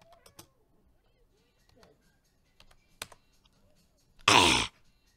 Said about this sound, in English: I'm typing in my weather mod.